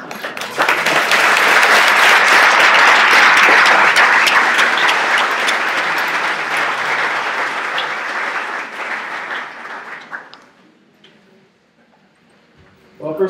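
An audience at the Connections 2014 event applauds loudly for about ten seconds, the clapping thinning gradually before dropping off into near quiet.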